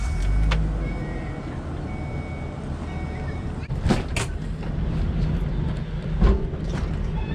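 Engine of a car idling steadily, low and continuous, with a couple of brief mechanical clunks near the start of levelling a 2018 Jayco RV.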